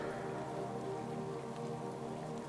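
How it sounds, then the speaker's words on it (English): Steady rain falls on ferns and wildflowers in a forest clearing, a dense, even patter that holds at a constant soft level throughout with no voices. "the rain falls more freely, dancing on ferns and wildflowers"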